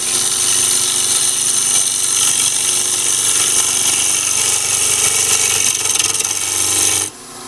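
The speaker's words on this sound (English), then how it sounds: "make a sheer cut with the long face of this gouge" A gouge makes a long shearing cut on a spinning wood bowl blank on a wood lathe, a steady close rasping hiss with no pauses that stops abruptly near the end.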